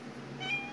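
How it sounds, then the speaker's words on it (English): A short, soft cat meow rises over a steady low room hum, heard once and fairly close. "That's Miss Sassy if you hear her meowing"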